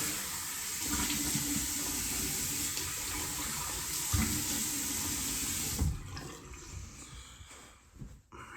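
Tap water runs steadily from a faucet into a bathroom sink as someone rinses off after a shave, a continuous close splashing that breaks off near the end into quieter drips and handling sounds.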